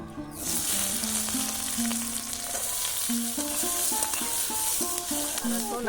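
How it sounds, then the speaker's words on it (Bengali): Chopped onions fry in a kadai of oil tempered with nigella seeds, a continuous close hiss of sizzling with melodic background music playing over it. "তেলে একটু কালো জিরের ফোড়ন দিয়ে নিলাম, এবার কাটা পেঁয়াজগুলো দিয়ে দেব।"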